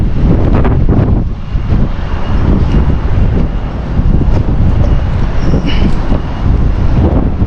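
Strong wind buffets the microphone outdoors with heavy, continuous low roaring and gusting that stays loud throughout.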